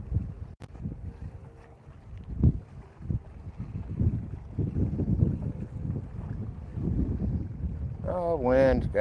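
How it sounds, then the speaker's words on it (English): Wind gusting across a fishing boat out on the water, a rough blustery rumble and microphone buffeting that rises and falls for several seconds, with people talking near the end. "Oh, wind gust."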